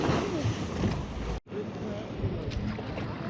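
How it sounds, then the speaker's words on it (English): Lake Superior waves crash and wash against the sandstone cliffs at Pictured Rocks near Munising, Michigan, a dense, rushing roar of surf with a brief gap before the churning water resumes. "The crashing waves."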